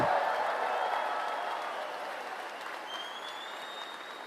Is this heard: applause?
yes